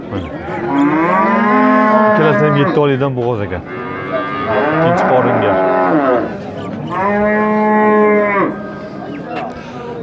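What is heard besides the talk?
cattle mooing at livestock market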